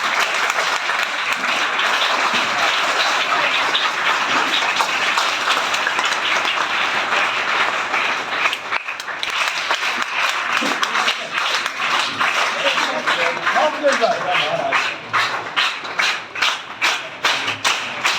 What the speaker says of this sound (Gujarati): તાળીઓના ગડગડાટ વિદ્યાર્થી મિત્રો